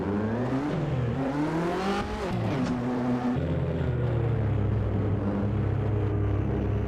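Touring car engine in the Assetto Corsa racing game, a mod of the 1985–1992 Australian Touring Car Championship with cars like the Mercedes 190E and Ford Sierra, droning steadily with rising and falling revs through gear changes.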